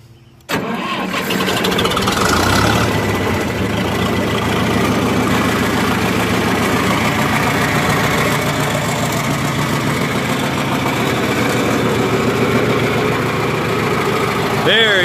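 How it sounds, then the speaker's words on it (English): A John Deere 3020 tractor engine cranks and catches after a brief quiet moment, then settles into a steady, loud diesel idle that runs close by for the rest of the clip. "Good sounding, good driving little tractor."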